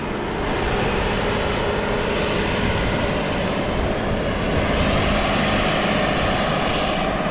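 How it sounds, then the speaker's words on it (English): An 800-horsepower Morbark 3400 wood grinder runs during forestry land clearing, its loud, unbroken engine roar and grinding noise holding steady throughout with no pauses or talk. "That's our new Moorbark grinder. Last year it was Moorbark 3400. It's 800 horsepower."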